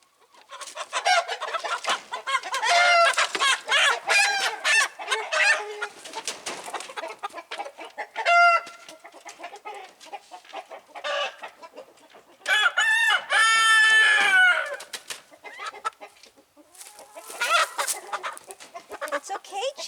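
Hens cluck steadily in a barn converted into a chicken coop while a rooster crows several times, loud and close, the birds chattering continuously with a few crowing bursts standing out.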